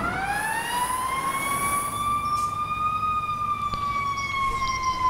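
A fire engine siren in the EmergeNYC video game, a loud, close wail that climbs and holds a sustained tone with rich harmonics, over a low vehicle rumble and no speech.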